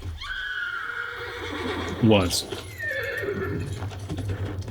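A horse gives one sharp, rising whinny in a scene from a fantasy television series, with hooves clopping and people talking over it before and after.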